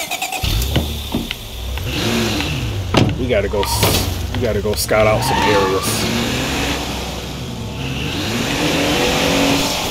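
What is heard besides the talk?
car engine accelerating in video game State of Decay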